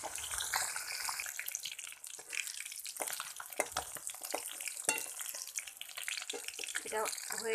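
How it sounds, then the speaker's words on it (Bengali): Tilapia fish sizzle and crackle steadily in hot oil, a close, continuous frying hiss with faint clatter throughout. "এইভাবে সব মাছগুলো ভেজে নেব"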